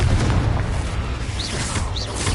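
A Confringo explosion spell in the Hogwarts Legacy video game, heard as a dense, steady rumble of blasts with low booming energy and brief bright magical whooshes over it, no talk.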